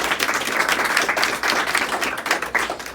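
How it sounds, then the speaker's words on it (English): An audience at a city council candidate event for an at-large seat applauds steadily, many hands clapping in a dense, continuous burst at close range. "Y'all can give her a round of applause."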